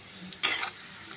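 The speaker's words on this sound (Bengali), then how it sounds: "একটু জল দিয়ে মিক্সড করব।" Spice masala loosened with a little water and stirred in a pan at home for dum biryani, giving a brief wet scraping sizzle that swells for a moment over a quiet kitchen background.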